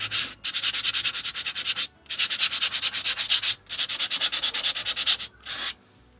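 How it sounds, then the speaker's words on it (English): Steady back-and-forth sanding on a repaired plastic car bumper, filler being shaped, in four long rhythmic bursts of rapid strokes with short pauses between, close and fairly loud with no talking. "Patience and a lot of sanding"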